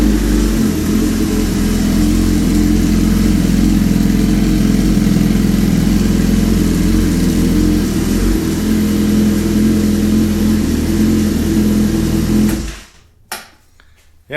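A Suzuki GSX-R1000 motorcycle engine idles steadily and loudly in a dune buggy build, with a continuous low rumble that cuts off abruptly near the end, followed by a couple of brief clunks.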